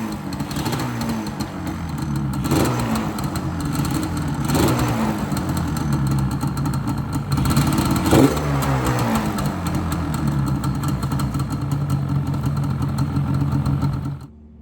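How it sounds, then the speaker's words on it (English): A 1996 Yamaha Banshee ATV's two-stroke engine runs on stock exhaust, idling close and loud with several sharp blips of revving spaced a few seconds apart before cutting off. "let's do this final startup here and show you guys how this bike is running and what it sounds like"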